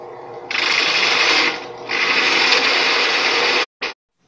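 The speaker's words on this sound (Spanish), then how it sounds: "Con el taladro de banco y utilizando una broca de 35 milímetros, haremos las perforaciones para colocar las bisagras en nuestras puertas." A bench drill with a 35 mm bit bores hinge-cup holes in melamine kitchen cabinet doors, a loud steady grinding whir that pauses briefly, resumes, then cuts off with a short final burst.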